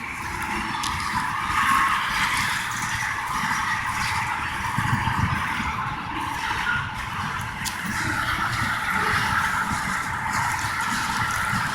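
A long freight train with tanker cars rolls past in Moline, Illinois, a continuous rumbling, grinding roar with faint squeals, steady and fairly close throughout with no voices.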